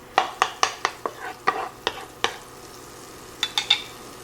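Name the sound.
butter and oil sizzling in a pot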